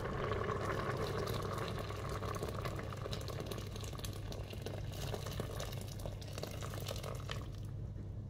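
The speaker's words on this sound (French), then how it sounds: "Je rajoute un peu d'eau." Water pours steadily into a Cookeo electric cooking pot, a continuous close splashing rush that fills the whole stretch at even loudness before trailing off at the very end, with no one speaking.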